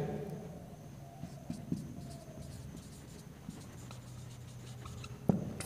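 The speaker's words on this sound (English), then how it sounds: "Let me write the keywords of the chapter." Pen or chalk writing out chapter keywords during a sixth-grade science lesson, soft scratchy strokes in short bursts, fairly quiet, with a sharp tap near the end.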